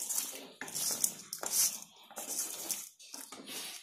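Coriander leaves and stems being sautéed in a pan, giving a broken, hissing sizzle in uneven bursts with short pauses, moderately close and fairly quiet, no talk.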